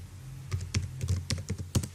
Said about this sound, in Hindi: यहाँ पे मैं टाइप करती हूँ